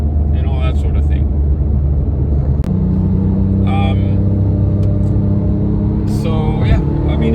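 A Porsche 997 GT3 flat-six engine and exhaust while driving, a steady loud droning rumble with a shift in pitch partway through, heard from inside the car as someone talks over it.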